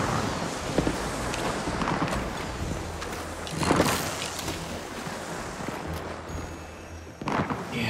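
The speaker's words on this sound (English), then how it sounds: "Fireworks going on." Fireworks bursting during a market festival event in the game Palia, a few scattered booms and crackles over a steady wash of ambient game sound and water, with a louder burst near the middle and another near the end.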